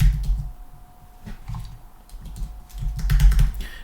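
Bursts of typing on a computer keyboard, close and clear: quick clusters of key clicks separated by short pauses, with a steady faint hum underneath.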